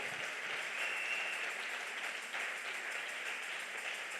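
A church congregation applauding for the Lord, a steady wash of many hands clapping continuously throughout, moderately loud and sustained.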